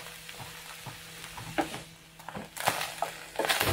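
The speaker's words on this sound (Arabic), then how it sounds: "بدي تقريبا ربع كيلو من الفطر على نفس الزيت وبنفس الوعاء بدي اطبخه" About a quarter kilo of mushrooms fry in oil in a pan, a soft crackling sizzle broken by scraping stir strokes that grow busier and louder toward the end.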